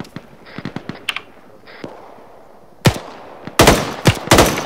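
Gunfire in the video game ArmA 3: scattered single shots at first, then loud, rapid bursts of automatic fire, close and booming, with no talk over them.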